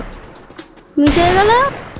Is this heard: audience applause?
no